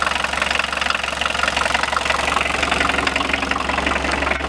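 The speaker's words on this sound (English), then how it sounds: "It's a lovely, comforting diesel throb, isn't it?" A diesel engine in a Holdsworth hi-top VW T25 camper van idles close by, a steady low rhythmic throb with even knocking pulses and no voices.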